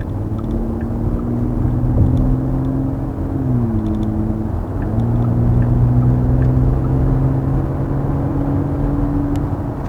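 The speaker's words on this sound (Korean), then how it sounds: "조금 풀렸으니까요 제가 가속을 조금만 해보겠습니다" A Porsche Cayenne V6 3.0 SUV accelerates with a low, steady engine hum from inside the cabin. Its pitch climbs, dips at a gear change, then climbs again over a constant road rumble.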